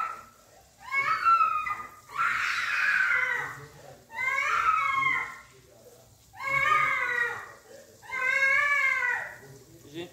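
A young boy cries and screams in a tantrum at home, giving five loud, close wailing bursts with rising and falling pitch, separated by short gasping pauses.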